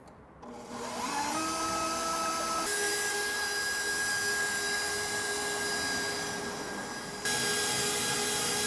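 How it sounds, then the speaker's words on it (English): A stand mixer with a whisk attachment beats egg whites at high speed, a steady loud motor whine with a fixed pitch that jumps in intensity as the speed changes. "We're gonna beat this over high speed until we start to form some peaks."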